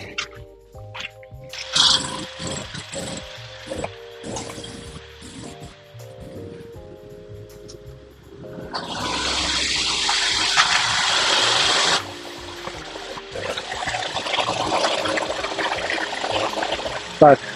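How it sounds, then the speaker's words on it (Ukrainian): A car engine idles with the air conditioner switched to maximum cooling, a steady whirring hum. The blower rushes in more loudly partway through, amid clicks and handling noises. "Зараз завожу автомобіль і включаю кондиціонер на максимальну потужність на охолодження."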